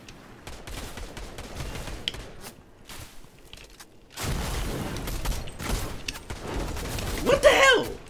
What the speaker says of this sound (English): Somebody else is trying to shoot that other person.